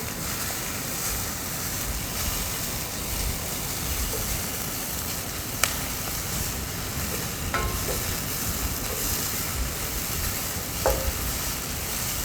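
Onions fry in a pan for a vegetarian meal, giving a steady close sizzle with a few sharp spoon clicks and scrapes from stirring, and no voices.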